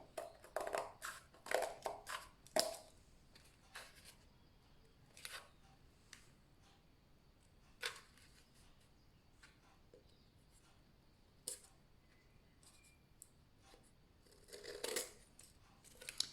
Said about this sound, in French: mes ciseaux sont en biais vers l'intérieur et je coupe en biais.